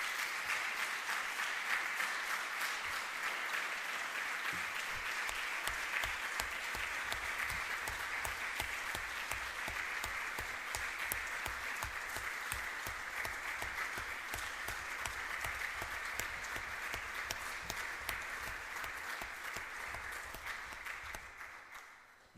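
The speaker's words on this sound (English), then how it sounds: "I would like just to ask a very noisy applause for him and for his work." Audience applause at the closing session of a workshop on open citations and scholarly metadata: sustained, dense clapping from a full room, steady and loud throughout before tapering off at the very end.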